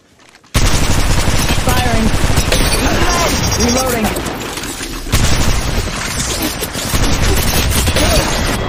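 Sustained rapid gunfire and booming shots in the mobile battle royale shooter Apex Legends Mobile, loud and dense from start to finish after a brief quiet opening, with radio-style voice callouts underneath.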